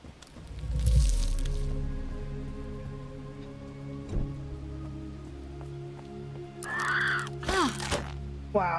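Birds caw in loud bursts within a video game's rainy combat area, with a couple of sharp calls near the end over steady background rumble and rain-like patter.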